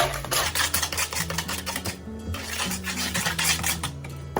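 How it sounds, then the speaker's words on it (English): Batter ingredients being mixed in a bowl, quick clattering utensil scrapes and taps against the bowl in an uneven rhythm, close and fairly loud, with a low hum behind and no talking. "Put that in there, and let's start mixing again. Mix it really well."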